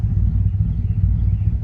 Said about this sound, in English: you can see how low it's idling right there